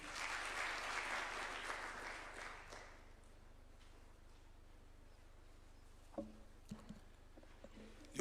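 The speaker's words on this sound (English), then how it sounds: "A clap for him, please." An audience at a State House ceremony for a presidential bill signing claps in a dense burst of applause that fades out after about three seconds, leaving a quiet room with a few faint knocks.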